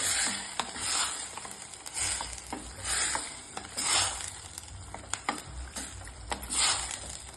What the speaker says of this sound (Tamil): 1/2 கிலோ சிக்கன் கழுவி வந்த சிக்கன் 1/2 கிலோ போட்டு இதையும் நல்லா வதக்கணும்